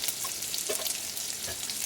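Mustard seeds and ground masala frying in oil while cooking bitter gourd, giving a steady soft sizzle with faint crackles throughout, alone and moderately quiet.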